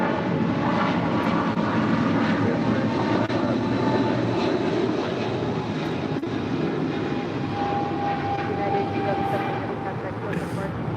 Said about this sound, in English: This is United 1170 departing to Honolulu on a 777-200.